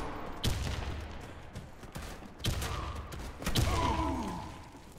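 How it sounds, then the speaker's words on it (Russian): Grenade blasts and bursts of gunfire in the Warface shooter game on the Hangars map, several sharp booming explosions at irregular intervals with rumbling tails, fairly loud and close. "Граната пошла!"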